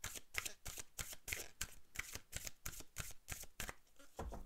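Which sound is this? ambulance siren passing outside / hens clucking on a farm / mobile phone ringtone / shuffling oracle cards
shuffling oracle cards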